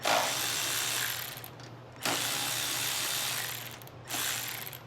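A 10mm socket ratchet backs nuts off a Troy Bilt 2410 snow blower, giving close rapid clicking in three bursts separated by short pauses.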